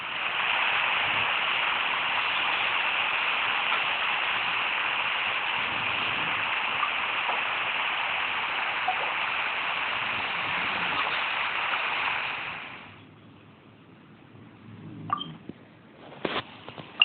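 Rain falls in Genshin Impact as a steady, loud hiss that holds for about twelve seconds and then cuts off abruptly, leaving near silence broken by a few soft clicks.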